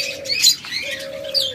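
A pet dove from a breeding pair sitting on eggs gives a few soft, close coos and chirps in a short burst, with no talk around it.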